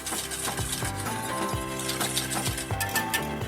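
White sauce whisked in a pan, a busy rattling of wire whisk against metal at a quick, uneven rhythm, close and moderately loud with no voices.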